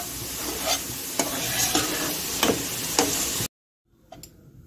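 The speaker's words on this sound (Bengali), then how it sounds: "ডিমটা ফুলকপির সঙ্গে খুব ভালো করে মিশিয়ে নেব।" A steady sizzle rises from a hot pan as an egg is stirred into a cauliflower filling, with repeated spatula taps and scrapes. It cuts off abruptly near the end, leaving only faint clicks, and no one speaks.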